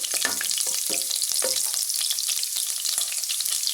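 Four or five garlic cloves sizzle and fry in a pan of oil for restaurant-style fried rice, a steady crackling hiss broken by a few scraping stirs, close and continuous with no talk.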